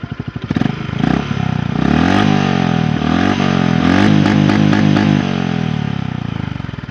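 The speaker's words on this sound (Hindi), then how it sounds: "ये इसका काफ़ी रोरिंग एग्जॉस्ट है।" Close and loud, a Honda CB 350 RS motorcycle's roaring exhaust revs repeatedly, the engine note climbing and dropping in a series of throttle blips before easing back toward a thumping idle.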